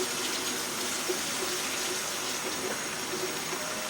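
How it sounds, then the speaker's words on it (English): Tap water runs steadily into a sink while a pasta sauce jar is rinsed out, a constant close hiss and splash with no talking. "And I'm just rinsing out the second jar."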